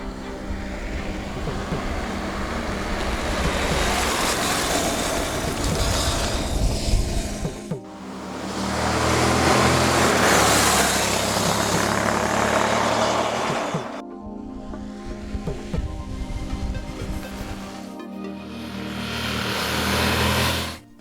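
A Honda NC700 with a fuel-injected 670 cc twin-cylinder four-stroke engine runs in several sustained stretches of steady engine drone broken by abrupt cuts, loud and close.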